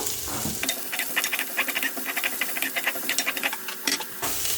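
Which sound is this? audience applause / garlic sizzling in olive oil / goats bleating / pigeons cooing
garlic sizzling in olive oil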